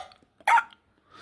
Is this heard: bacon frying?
no